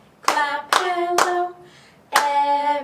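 Children clap along to a hello song at storytime, four sharp, ringing claps in an uneven rhythm, three close together and a fourth after a short pause.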